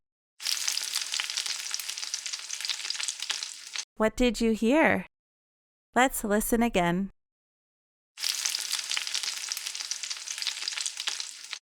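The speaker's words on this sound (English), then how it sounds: "Now that's a sizzle." Food sizzles steadily as it fries in a kitchen pan, a loud continuous hiss heard alone twice, with a short stretch of talking in between.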